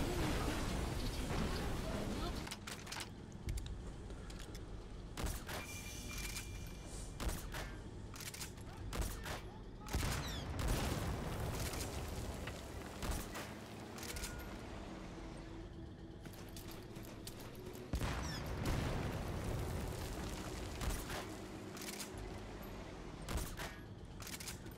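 Molotok-68 rifle in Metal Gear Solid V firing at a tank, repeated sharp shots and impacts spread through the clip amid game noise and rumbling, with talk over it.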